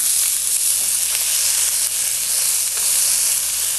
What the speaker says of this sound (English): you're just going to saute that again for maybe 5 to 10 minutes